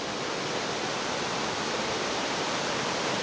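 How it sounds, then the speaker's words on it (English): Waterfall and cascading running water at Oxford Falls in Sydney, a steady, dense, full roar of falling water, close and constant with no other sounds. "I will never tire of running water"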